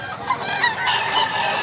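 Chickens and roosters at a market in Mantalungon, Cebu, give loud, close squawks and crowing-like calls, with several birds overlapping in a brief burst.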